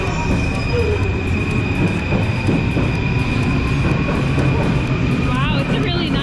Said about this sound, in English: Yo, I see a train.